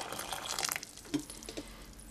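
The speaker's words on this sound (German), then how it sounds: "Also heiß Wasser in den Topf." Hot water poured from a kettle into a cooking pot for spaghetti, a short splashing pour for the first part that fades into faint trickles and drips.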